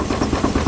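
A stationary steam engine runs at a steam historical society sawmill show, chuffing softly in a steady, even rhythm of about three beats, with a continuous hiss beneath and no voices.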